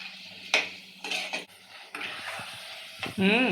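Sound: sautéing tomatoes in a pan for fish curry

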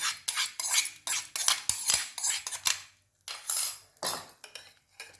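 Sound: stirring Mysore dosa batter with tempering

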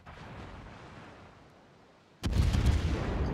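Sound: ship guns firing in a naval battle video game

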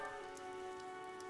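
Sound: rain falling in video game Fire Emblem Three Houses

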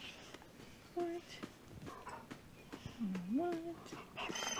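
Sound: puppies whimpering

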